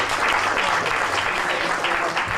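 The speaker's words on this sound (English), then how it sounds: "Let's give a round of applause for Robert Triano." An audience at a Haitian Dominican community forum at Westbury Center claps in a thick, even round of applause that fills the whole short stretch at close, steady loudness.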